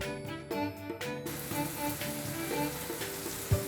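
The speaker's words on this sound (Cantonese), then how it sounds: "炒糕果店，豬油喳喳咁響" Rice cakes fry in lard at a Chaoshan fried-cake shop, a soft continuous sizzle under a tonal musical background, with a brief clatter near the end.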